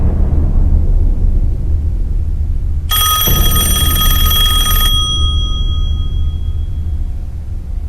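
A telephone bell rings once for about two seconds, loud and metallic, over a dense low rumble of room noise, with no talking during the ring.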